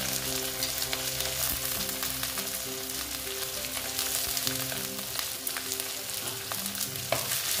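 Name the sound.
frying onion with ginger and garlic in oil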